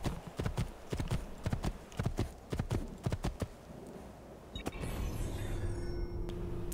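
Horse hooves clip-clopping in the game Assassin's Creed 2, a brisk steady run of close, loud hoofbeats for several seconds that stops abruptly, leaving a low ambient hum.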